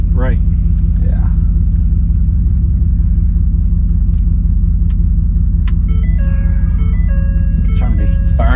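A 6.7 Powerstroke diesel truck with a 70 mm ball bearing turbocharger idles with a loud, steady, low rumble from inside the cab, while people talk over it.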